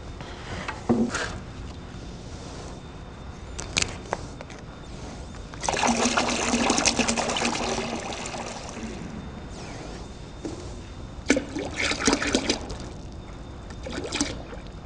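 A 50-50 coolant mix of distilled water and ethylene glycol being poured, heard as intermittent trickling and splashing in separate bursts, close and moderately loud, with handling clatter between pours.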